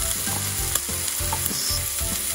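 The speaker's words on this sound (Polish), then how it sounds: "Tutaj smaży się coś." Food sizzles steadily in a pan at a campsite meal of couscous and mushroom soup in Sicily, with a continuous close frying hiss and occasional stirring clatter.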